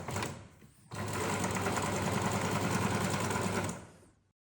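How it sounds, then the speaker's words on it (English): A sewing machine stitches a shirt sleeve cuff in one steady, even run of about three seconds after a brief start, close and clear, then stops. "Now sew the other piece of the sleeve cuff on."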